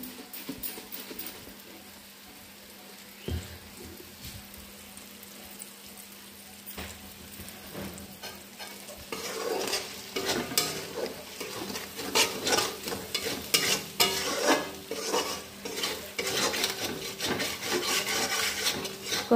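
Mushroom curry with turmeric is stirred and fried in a pan, a spatula scraping and rubbing in repeated strokes over a soft sizzle that grows busier and louder in the second half, with no voices.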